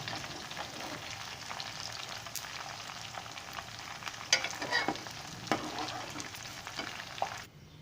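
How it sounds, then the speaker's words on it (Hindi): Fried okra sizzles in hot oil while pieces are stirred and lifted out of the pan, a dense steady crackle with scraping spatula sounds near the end. "भिंडी हमने फ्राई कर ली है और बहुत प्यारा इसका गोल्डन कलर निकला है। तो अभी हम इसे जो है निकाल लेते हैं।"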